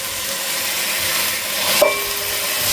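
Chopped vegetables tumble into a pan of onions fried until pinkish, for a simple spiced masala rice. A dense, steady frying hiss is heard close up, with one brief clack from a spoon or pan partway through.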